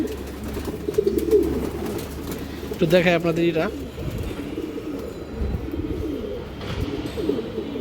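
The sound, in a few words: pigeons cooing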